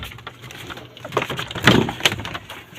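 Someone knocks on a house door with a few uneven raps, close and moderately loud, over a faint background hum and no talk.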